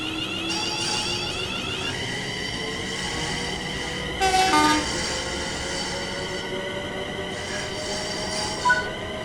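Electric train running on the West Coast Main Line in Train Sim World 5, a continuous motor whine and rolling rumble with a short horn blast midway and a brief tone near the end. No voices.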